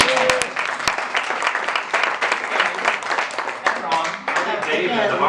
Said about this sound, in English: You should have clapped for Ron, too.